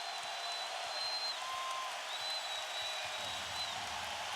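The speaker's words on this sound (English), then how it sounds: "And this crowd on its feet." Home crowd at the Spurs' arena for Game 1 of the 2007 NBA Finals against Cleveland, standing and cheering in a steady, distant, fairly quiet roar that stays even throughout.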